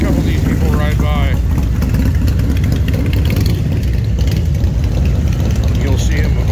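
Motorcycles ride past at a bikefest in Leesburg, their loud engines rumbling and revving continuously under a busy crowd of outdoor noise.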